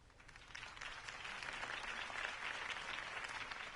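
Sustained applause from a crowd in Batman: The Telltale Series, a dense steady patter of clapping that swells slightly and holds, slightly distant and muffled.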